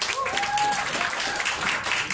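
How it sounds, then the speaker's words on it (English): Dense crowd applause fills the clip, a continuous wash of clapping with a few faint cheers mixed in. "give a big round of applause to all of our KOLs on stage here today"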